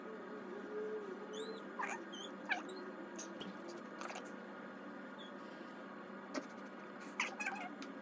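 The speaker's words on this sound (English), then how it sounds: "I had a cat visitor during all of that, and she stopped right in front of my face" A visiting cat meows several times at close range, short rising and falling cries scattered over a steady low background hum, with no talking.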